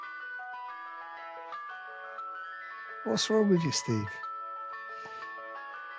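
An ice cream van's chime melody plays as a thin, tinkling tune of steady notes, briefly interrupted by someone talking over it partway through.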